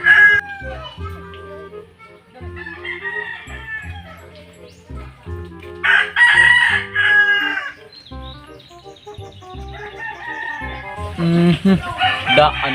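Roosters crow and hens cluck in a loud, busy yard, calls coming in bursts between people talking.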